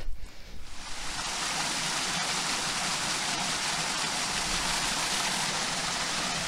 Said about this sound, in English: We've got the water running off the hill here.